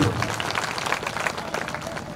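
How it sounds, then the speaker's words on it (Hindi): A crowd at an outdoor political rally in Kanpur Dehat claps steadily to welcome speakers, moderately loud scattered applause sustained across the moment without a clear peak. "जोरदार ताली बजा करके इनका स्वागत करिए"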